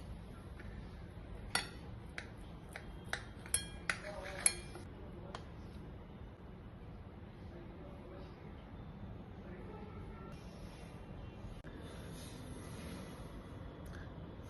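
Cutlery clinks and scrapes against a plate while cutting through a homemade vegetable pancake topped with syrup, a handful of sharp taps clustered early, then quieter scraping with a faint background hum.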